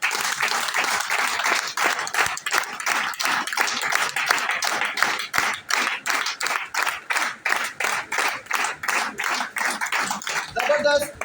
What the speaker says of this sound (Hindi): आप सबकी बहुत सारी तालियों में सरफराज अहमद जदर